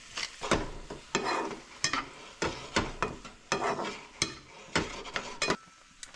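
Vegetables frying in olive oil in a preheated pan, with a soft sizzle beneath repeated sharp utensil scrapes and clacks as they are stirred, close and moderately quiet.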